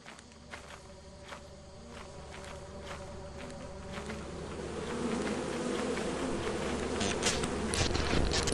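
Bees buzz in the video game Lethal Company, a continuous droning hum that grows louder partway through, with footsteps pattering over it.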